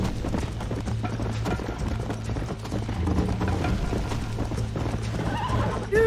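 A horse in Red Dead Redemption trots with steady clip-clop hooves, close and loud, ending in a rising whinny at the very end.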